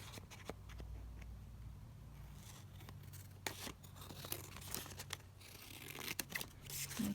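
Scissors trim coffee-dyed paper tags up close, quiet crisp snips and paper rustles scattered irregularly over a faint background hum, with a few sharper cuts near the end.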